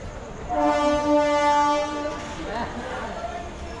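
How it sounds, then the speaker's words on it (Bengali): Train horn blaring as a passenger train pulls out of Berhampore Court station on a rainy day, a long steady blast with stacked harmonics lasting over a second, then fading into rolling rail noise. "এই ছেড়ে দিল আর বহরমপুর কোর্ট থেকে হর্ন দিল।"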